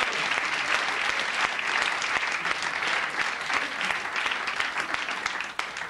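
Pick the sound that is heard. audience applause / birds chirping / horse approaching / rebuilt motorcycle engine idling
audience applause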